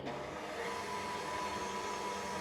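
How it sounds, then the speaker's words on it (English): A stand mixer runs at medium speed, beating Italian-method macaron batter with a steady, even motor whir that holds loud and constant throughout, with no voices. "we're going to set this on our stand mixer. And we're going to start mixing it on a medium speed"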